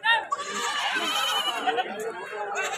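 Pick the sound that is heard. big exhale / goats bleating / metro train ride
goats bleating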